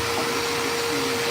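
A vacuum cleaner runs steadily inside a Honda hatchback, a loud, continuous close whine with a constant hum and no pauses or talk.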